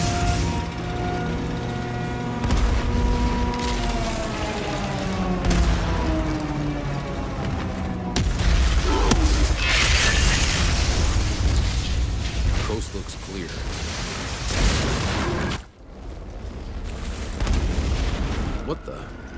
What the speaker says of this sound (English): Artillery support incoming!